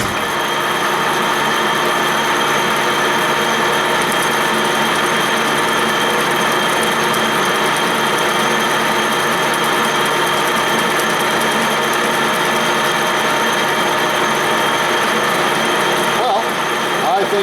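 A sharp cutting tool machines a part for an airplane repair, taking off 130 thousandths, producing a steady, unbroken mechanical whir and hiss at close range that holds nearly level throughout.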